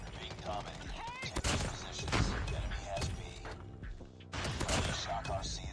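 Rapid shotgun blasts from autofire in Call of Duty Mobile, dense bursts of gunfire and weapon mechanics packed close together, loud and near, with game effects layered over them.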